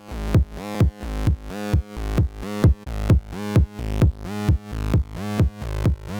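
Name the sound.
synth sidechain compressed to the bass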